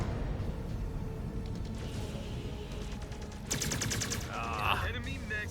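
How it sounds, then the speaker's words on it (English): Rapid mech weapon fire in the MechWarrior 5 Clans video game, a dense rattling burst that swells loudly in the second half over a constant low rumble of battle noise. "I would love to shoot you again"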